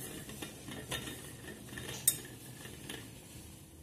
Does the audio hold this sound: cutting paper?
no